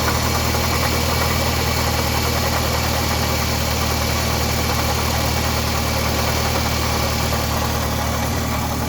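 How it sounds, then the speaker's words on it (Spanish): A 2005 Toyota Camry engine with a faulty tensioner idles close by, giving a steady, continuous rumble with a faint metallic whine and no speech. "porque anda un ruido. El tensor ya parece que ya está malo."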